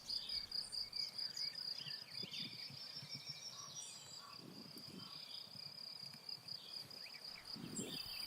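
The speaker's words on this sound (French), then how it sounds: "Des centaines de grillons, des criquets, des sauterelles, des chenilles." Steady, high-pitched chirring of crickets and grasshoppers fills an open meadow, continuous and fairly faint, with occasional soft rustles and a distant bird.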